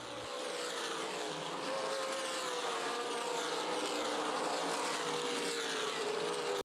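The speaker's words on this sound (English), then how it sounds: "Steve Stacy, the Plymouth, Indiana driver, car number 17, looking strong early on. 3 laps in" Short-track stock car race cars at Winchester, a pack running laps early in a race, their engines blending into a steady continuous roar with a whining tone that slowly rises and falls as cars pass.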